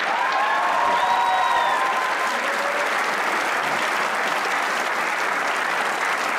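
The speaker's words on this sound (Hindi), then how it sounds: "उनके लिए एक एक बार हम ताली जरूर बजाएंगे।" A studio audience applauds steadily and loudly for a hockey team captain on a Pakistani comedy talk show, a dense wash of clapping that holds for the full stretch with no voices above it.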